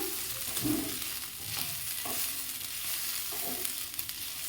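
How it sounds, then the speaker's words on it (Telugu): Ivy gourd (dondakaya) fries in a pan with a soft, low sizzle, broken by occasional faint stirring scrapes. The sound is quiet and close, with no talking. "చూడండి, దొండకాయ చక్కగా ఫ్రై అయిపోయింది కదా."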